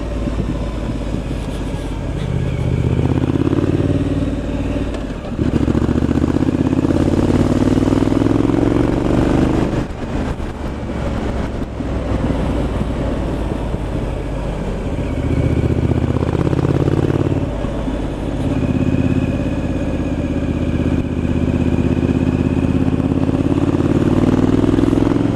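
A 2019 Triumph Street Scrambler 900 with a non-stock exhaust rumbles steadily with a loud, throaty, deep exhaust note, rising slightly in bursts as it rides along, continuous and close.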